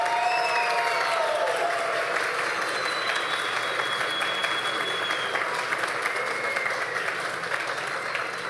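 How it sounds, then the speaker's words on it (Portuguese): Sustained applause from an audience at a solemn session of a city council chamber honoring Spiritist Day, steady clapping throughout with no voices over it. "uma salva de palmas"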